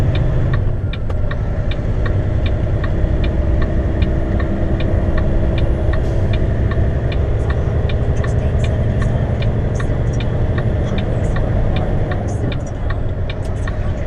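A heavy haul truck cruises along a highway, its engine and road noise a steady, loud drone throughout, with a regular ticking, likely a turn signal, repeating across the run.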